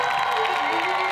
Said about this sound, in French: applaudie par le public présent.